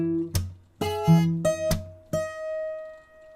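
Acoustic guitar picks out a fingerstyle passage from a song, with about six plucked notes and chords ringing in sequence, the last one sustaining and fading. It sounds close and clear, with no voices.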